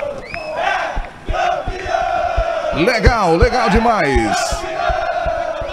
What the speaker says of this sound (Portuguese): Comemora, vibra a torcida alvinegra.